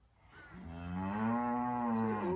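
A single long, loud cow moo from cattle in a yard rises and holds steady close to the listener, sounding alone without any talk.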